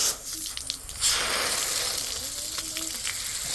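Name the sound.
spraying fresh water through RC boat battery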